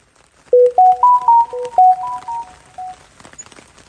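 A phone chat message notification chime rings out as a quick run of clear, bright electronic tones, loud and close, with no talk over it.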